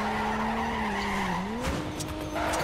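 Tires skid and squeal through a drift in the video game Torque Drift, a sustained sliding tone that rises and falls along with a steady engine drone, loud and continuous with no talk.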